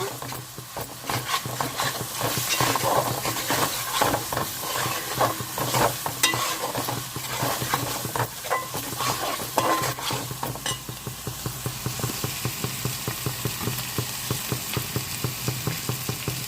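Ginger-garlic paste and peppercorns frying in oil for white pulao, a constant sizzle with repeated scraping and stirring strokes of a spoon against the pan, close and steady throughout, with no voices.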